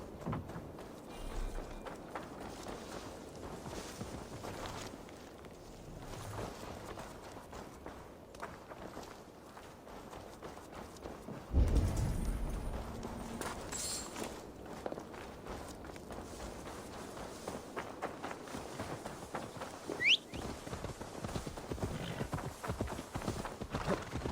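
Hooves clip-clop steadily as Magni's horse is ridden in the video game Assassin's Creed Valhalla. The rhythmic footfalls sit under a dense, continuous layer of game ambience, with one brief louder thump midway.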